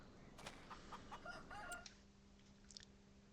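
Chickens on a farm clucking and squawking in a short burst, fairly distant and quiet, with a low steady hum underneath and then near silence.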